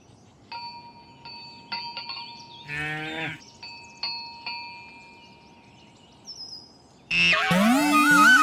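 A cartoon cow in an animated children's story gives a single loud moo midway, set among clear chime-like ding tones and followed by a burst of bright, busy musical sound at the end.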